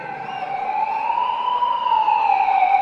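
A wailing evacuation siren sounds after an earthquake, a steady rising and falling tone heard alone at moderate loudness and some distance.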